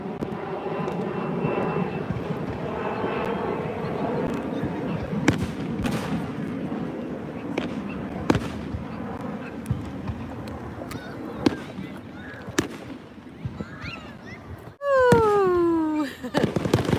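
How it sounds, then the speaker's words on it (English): A fireworks display booms and crackles at a distance, with a steady run of bursts over a droning aircraft-like engine hum, then a loud whooshing whistle near the end. "So the fireworks display was absolutely awesome."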